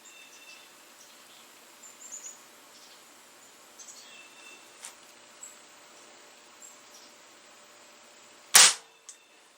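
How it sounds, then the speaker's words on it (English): A CO2 airgun fired without a pellet over a chronograph gives a single loud, sharp gas pop near the end, after a quiet stretch of faint clicks and handling noise. "Now, of course, we're starting it with no pellet at all."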